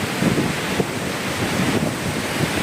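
Sea waves surge where river freshwater flows into the sea, producing a steady, loud wash of rushing water and surf with wind buffeting throughout.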